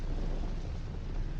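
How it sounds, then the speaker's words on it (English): Rain and thunder as a radio drama sound effect: a dense, continuous wash of heavy rainfall with a deep rumbling underneath, steady and loud throughout the short stretch, with no voices. "Just listen to that rain."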